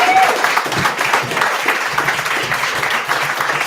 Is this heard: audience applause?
yes